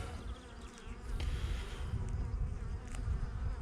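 Bees buzz densely around a hive, a continuous close swarm drone that swells after the first second and holds steady.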